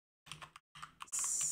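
Quick bursts of keystrokes on a computer keyboard, a few light clicks in two short clusters with a brief pause between, close and quiet.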